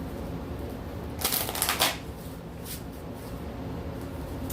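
A mystical wisdom oracle card deck is riffled once in a short, crisp burst of flapping cards, close and fairly loud, then quiet room tone follows.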